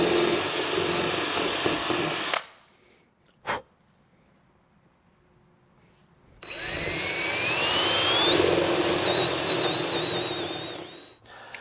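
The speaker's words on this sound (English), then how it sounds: "I'm going to drill through the wood with a 1/2 inch wood drill bit" Power drill with a 1/2 inch wood bit boring through wood while mounting an aluminum railing, heard as two loud whirring bursts with a gap between, the second rising in pitch.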